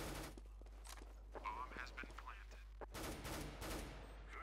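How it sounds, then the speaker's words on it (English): Gunfire in Counter-Strike: Global Offensive, quick sharp bursts of shots at moderate distance, with a voice talking over part of it. "How did he just shoot me, Brooks?"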